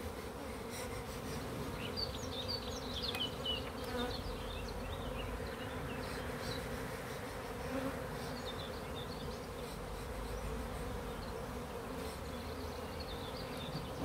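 Honeybees from a swarming hive hum in a dense, continuous drone close by, individual bees whining past now and then, steady and fairly quiet with no talking.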